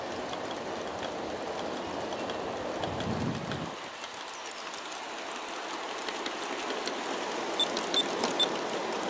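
Outdoor garden-scale model train, a 44-car mix of Aristo-Craft USA and AML cars, rumbling steadily along the track with a continuous rolling wash of wheel noise and light clicks, no talk.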